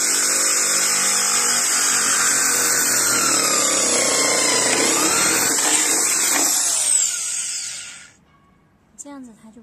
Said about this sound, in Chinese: 开的时候不要太用力的压这个手枪钻，它开的那个就不会卡在里头